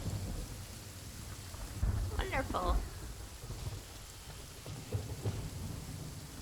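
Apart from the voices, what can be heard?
rain and thunder, Genshin Impact video game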